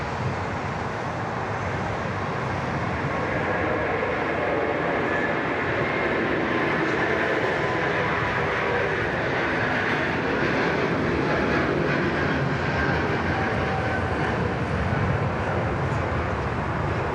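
At Sydney Airport an airliner departs on its takeoff run, a loud, sustained engine roar that stays full and steady for the whole stretch.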